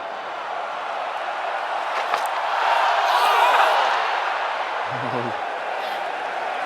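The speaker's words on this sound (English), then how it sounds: "Not a full crowd by any means, but a lot of noise." Crowd noise at a cricket stadium during an England v India Test match, a broad, steady murmur of a partly filled ground that swells briefly in the middle, with a commentator's voice over it.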